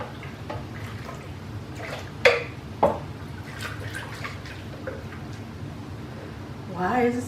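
Liquid from a pot of pozole (hominy soup) drains through a strainer, heard as soft dripping and trickling with a couple of sharper splashes, close by, with quiet talk in the background.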